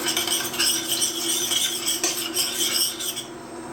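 A metal spoon stirs a pan of caramel with steady scraping and light clinking against the pan, close and continuous for a few seconds.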